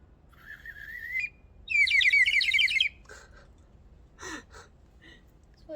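A shrill, warbling bird whistle toy, blown without water, trills in a few loud bursts, with shorter chirpy blips after, sharp and piercing over a quiet background.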